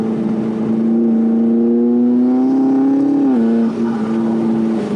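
A tuned 2012 McLaren MP4-12C's 3.8-liter twin-turbo V8 holds a smooth, loud drone that rises gradually in pitch, then drops suddenly before settling again.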